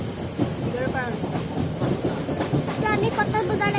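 A largely empty passenger train runs on rails between Jagiroad and Kamakhya station in Assam, giving a steady close rumble with rhythmic clickety-clack of wheels over the track and a light hiss, with talk over it.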